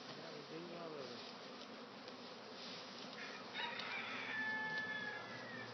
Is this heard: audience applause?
no